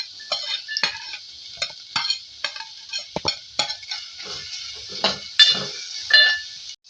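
Carrots stir in ghee in a pan as a spoon scrapes and clinks against the metal in irregular close bursts over a light sizzle, with no talking.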